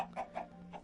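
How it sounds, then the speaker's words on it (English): Soft, high chirpy clucks from a baby chicken in Minecraft, three short calls spaced evenly across under a second, fairly faint and alone. "And we actually have a brand new baby chicken."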